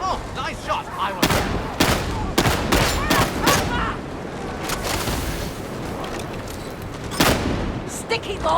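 Shotgun fire in the game Warhammer 40K Darktide, a string of loud blasts in irregular bursts amid a chaotic battle din, with voices talking over the fighting.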